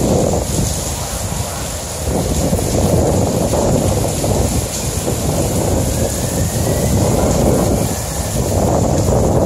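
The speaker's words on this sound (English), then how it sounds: "This is a 30 mile an hour wind that we're experiencing right now." A 30 mph wind with rain batters the San Diego Central Library, making a loud, constant roaring rush of gusts and buffeting against the microphone, with brief lulls and no clear talk.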